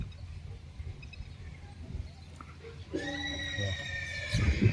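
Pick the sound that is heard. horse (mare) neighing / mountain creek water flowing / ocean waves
horse (mare) neighing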